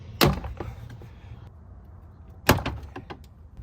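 Ford Fusion exterior door handle pried loose by hand, two sharp plastic pops about two seconds apart with faint clicks and rattles between them, close and loud.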